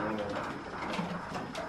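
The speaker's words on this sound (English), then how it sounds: "Was that the bird?" A pigeon or dove calls inside a creepy, abandoned building at Bombay Beach by the Salton Sea, giving a soft, hoarse coo over a steady muffled background, with no speech.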